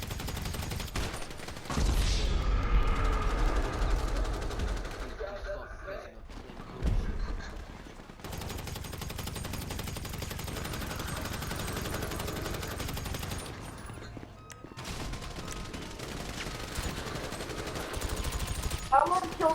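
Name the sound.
minigun firing in a video game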